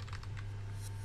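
Quick keystrokes on a computer keyboard, a handful of soft clicks in a short burst over a steady low hum, with no one speaking.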